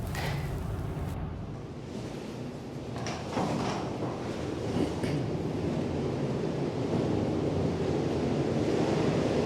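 Storm Eunice battering Lundy Island, with a loud, unbroken roar of gale wind and crashing surf that swells stronger toward the end.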